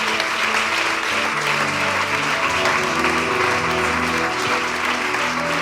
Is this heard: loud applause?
yes